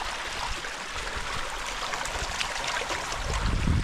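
Water flows steadily through farmland in Oman, a continuous close rushing and trickling with no voices.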